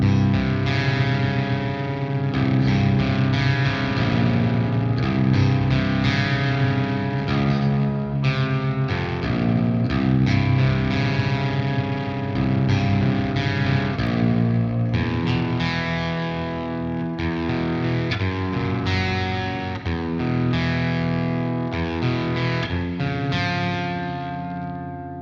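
A high-gain electric guitar runs through a Fortin Nameless amp patch on an AX8, playing a steady, dense distorted passage with sustained chords and thick low end, loud and unbroken for the whole stretch with no voices.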